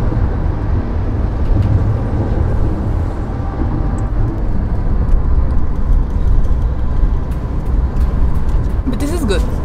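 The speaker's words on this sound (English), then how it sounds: "We are in the middle of trucks here." Loud, continuous rumble of heavy trucks and mixed traffic on a busy Brazilian street, with engines droning close by throughout and a voice speaking over the noise.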